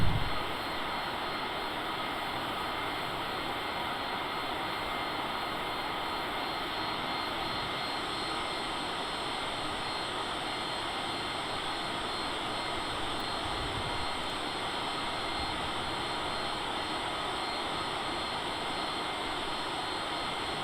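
Cessna CJ4 business jet in flight from Prescott to Phoenix: a steady, unbroken jet engine roar and cabin drone, loud and constant throughout with no talking.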